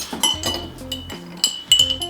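Metal bar spoons clink against glassware while a hot toddy of apple, brandy and Demerara sugar is mixed, sounding as a series of bright, close, ringing taps and clatters in an irregular rhythm with no talking.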